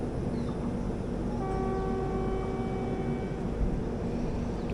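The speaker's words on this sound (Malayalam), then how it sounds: "നല്ല ഹോണടി ഒക്കെ ഉണ്ട്." A train horn sounds from the Hampi Express in India, a sustained multi-tone blast that starts partway in and holds steadily over constant rumbling rail and carriage noise.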